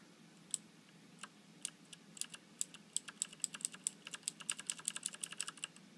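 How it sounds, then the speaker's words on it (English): Clicky Das Keyboard Ultimate S with Cherry MX Blue switches being typed on, sharp individual key clicks starting sparse and then speeding into a fast, steady run of presses, fairly quiet and close. "this one has Cherry MX blue switches, which are very clicky. And this is what they sound like."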